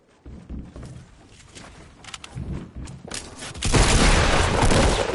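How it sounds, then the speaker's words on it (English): Shotgun fire in a first-person video game, a few dull booms and thuds amid footsteps, ending in a sustained loud blast of noise. "He shot at me with a shotgun from that far away."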